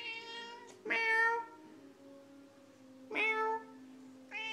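A cat meows three times at home, clear and close, with short gaps of quiet between the calls.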